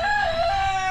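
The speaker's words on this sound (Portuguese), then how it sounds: "vamos entrando aqui no galinheiro das galinhas" Chickens in a henhouse on a small farm, with a rooster's crow or loud clucking call ringing steadily through the second, close by, over a dense backdrop of other fowl.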